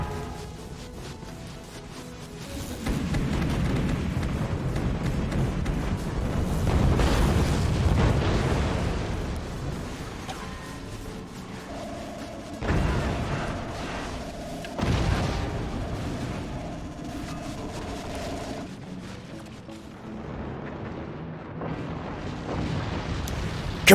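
Explosions and booming impacts from the artillery strategy game Forts rumble in repeated bursts, a long swelling blast early on followed by several sharper detonations, loud and alone with no talk.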